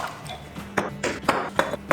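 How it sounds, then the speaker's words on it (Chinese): Clay soup pots clink and knock together while being soaked and washed, a series of sharp ceramic taps and rings at an uneven pace, close by, over a low background of water and handling. "瓦罐买回来需要浸泡清洗一下"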